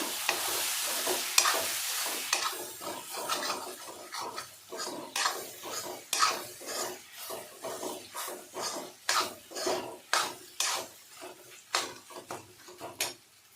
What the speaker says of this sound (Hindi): कटहल की सब्ज़ी को मैं बार बार घुमा रही हूँ